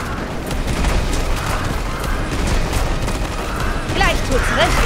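Dense, continuous gunfire and booming blasts from combat against waves of flying creatures in the PC action game Forspoken, loud and steady throughout, with brief magical whooshes near the end.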